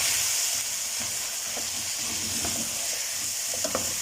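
Crushed onion frying in a karahi, a dense, continuous loud sizzle with a few faint stirring knocks, close up.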